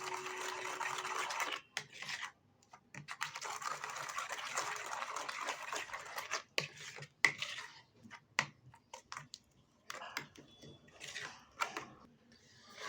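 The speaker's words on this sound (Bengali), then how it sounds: "খুব ভালো করে এবার এটা একটু মিশিয়ে নিতে হবে" Masala spice paste mixed by hand with Kashmiri chilli powder in a bowl: steady close squelching and rubbing, broken by short pauses and a few sharper wet taps, with no talk.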